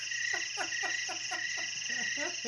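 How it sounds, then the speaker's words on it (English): A crickets sound effect closes a radio show with a steady, rhythmic run of repeated chirps over a constant high drone, moderately loud and with no voices. "Supposed to be crickets. That's how we end the show."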